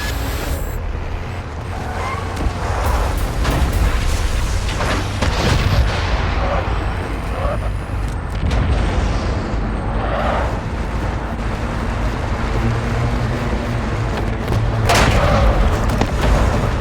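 Missile explosions and heavy booms in the Call of Duty Modern Warfare game, loud and continuous, with rumbling blasts layered over constant battle noise.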